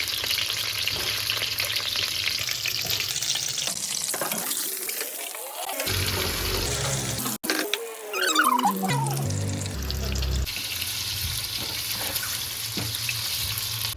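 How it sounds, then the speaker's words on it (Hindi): Eggs and potatoes fry in a pan for biryani, a steady loud sizzle interrupted midway by clanks and a brief stirring or water-like splash before the frying hiss resumes, with no talk. "अंडे और ये आलू थोड़ा सा इनको फ्राई करूँगी"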